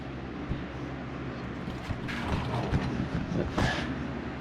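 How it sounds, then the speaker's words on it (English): A metal latch is worked loose and pulled from a custom door on a Honda Pioneer 700 side-by-side, giving a few scattered mechanical clunks and creaks against a steady low background hum. "I was gonna pull that other latch out of there so you guys can see what it looks like"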